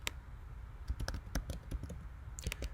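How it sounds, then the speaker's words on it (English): A date is typed on a computer keyboard as a quick, uneven run of close, crisp key clicks with a short pause in the middle and no talking. "And we will type the date."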